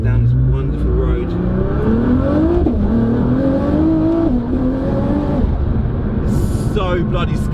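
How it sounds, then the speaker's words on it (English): A 1,000 bhp Nissan GTR accelerates hard down a road in R mode, its engine note climbing steadily and dropping at quick gear changes, loud and close throughout. "Do I really need to cane the arse out of this car to show you how powerful it is?"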